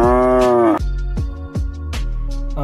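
A cow moos in one long, loud bellow, then gives several shorter moos in a steady rhythm. The calls are close and clear, with no talking over them.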